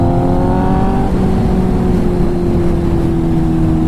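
Kawasaki ZX-10R motorcycle with an SC-Project titanium exhaust on an evening ride, its engine note loud and close, holding a steady drone and then shifting pitch as the rider changes speed, with no voices.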